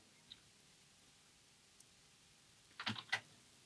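A short burst of computer keyboard typing, a few quick faint clicks near the end of an otherwise quiet stretch.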